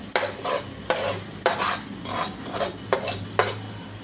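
Mustard dal and powdered jaggery are mixed into raw mango pickle, giving repeated rasping, scraping strokes of a spoon against a vessel at an irregular rhythm, close and fairly loud.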